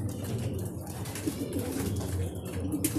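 Pigeons at a loft coo in a low, continuous murmur, close and steady, with a faint flutter of wings near the end.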